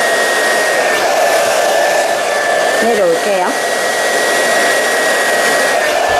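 A hair dryer blows with a steady, loud whooshing roar throughout while styling hair in a salon blow-dry, as someone speaks briefly beneath the noise.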